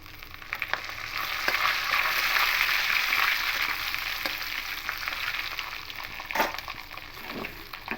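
Cloves, cinnamon, cardamom and bay leaves fry in hot oil for a potato dum, giving a dense, continuous sizzle with occasional crackles and scraping clicks from stirring, close and fairly loud, with no voices.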